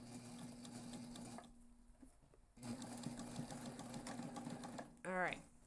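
A sewing machine stitches a seam on a backpack with a steady, fast mechanical whirr. It pauses briefly and then restarts, with a short whine near the end. A voice talks over the stitching.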